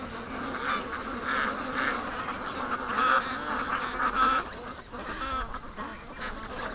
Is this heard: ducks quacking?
yes